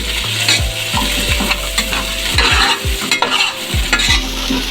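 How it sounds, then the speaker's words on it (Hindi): Cauliflower pieces fry in about four tablespoons of hot oil, a steady close sizzle broken by repeated scraping and stirring strokes of a spatula, with no voices. "अब ये गोभी हम इसमें फ्राई करेंगे"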